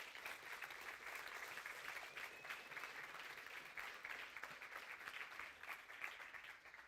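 Audience applause after a software testing conference talk, a steady wash of many hands clapping that holds evenly throughout, with no voices over it.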